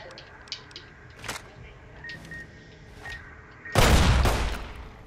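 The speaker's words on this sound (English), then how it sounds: "Okay, so I'm gonna shoot that. I'm gonna take out a police pistol." A police pistol fired in Fallout New Vegas at the Sierra Madre: a few faint sharp reports, then one loud close blast with a decaying rumble.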